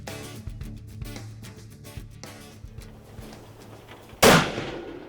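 A single sharp rifle shot cracks out during a deer hunt, aimed at a buck, loud and close, followed by a brief decaying echo after quieter rustling.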